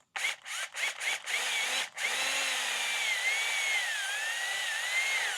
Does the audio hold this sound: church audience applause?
no